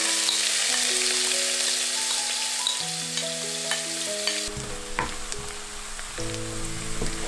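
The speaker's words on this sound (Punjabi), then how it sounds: "ਹੁਣ ਮੈਂ ਪਾਵਾਂਗੀ ਪਿਆਜ਼ ਕੁੱਟੇ ਹੋਏ ਬਰੀਕ" Finely chopped onions fry in a pan with green cardamom and cloves for a restaurant-style shahi paneer, giving a steady close sizzle alone, with tonal hums running under it and brief scraping stirs.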